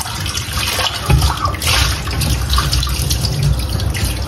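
Tap water runs steadily over a bird's water plate being washed outdoors, a close, continuous splashing gush with brief stronger bursts as the plate moves under the stream.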